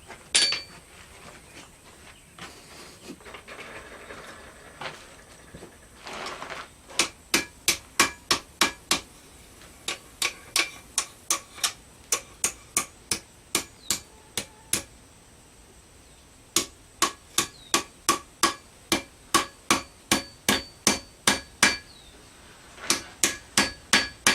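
Hot metal is hammered on an anvil to bend and forge a fishing spear, a long series of sharp, ringing metallic strikes in quick, regular runs with brief pauses between volleys, close and loud.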